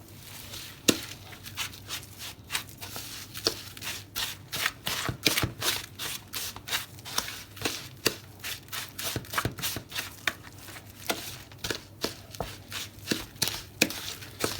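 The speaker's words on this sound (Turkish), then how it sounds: "Kaşıkla uğraşmayıp elinizle de yapabilirsiniz. Hani çiğ köfte yoğurur gibi şu şekilde." Homemade bird food mash worked and squeezed by hand in a bowl, kneaded like raw meatball dough: a close, steady run of wet squelching slaps and squishes repeating about twice a second, with no one speaking.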